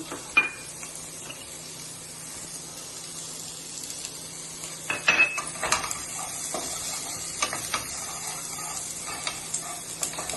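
Onion and green capsicum fry in a pan for paneer Manchurian, a soft continuous sizzle broken by clinks and scrapes of stirring, without talk.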